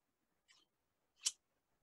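Large, heavy fabric scissors big enough to cut a circus tent give two crisp snips, a light one followed by a louder, sharper cut, close and isolated in near silence.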